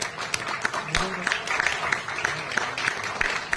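An audience at a Jain poetry recital in Delhi's Hindi Bhawan claps in a loose, rhythmic beat, sharp close hand claps repeating about every third of a second while someone speaks over them.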